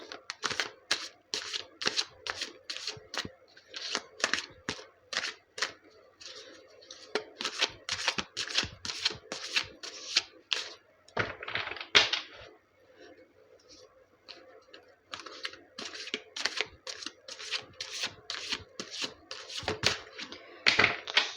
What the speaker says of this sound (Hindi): चलिए, तो कार्ड्स हो गए हैं शफल